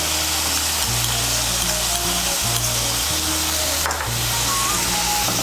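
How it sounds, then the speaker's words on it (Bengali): A paste of coriander and chilli powder fries in a pan, making a steady, dense sizzle throughout with a low hum beneath it. Stirring is faintly audible under the frying, and no one speaks. "মশলাটাকে ভালো করে মিশিয়ে নিয়ে মশলাটাকে একটু কষিয়ে নেব"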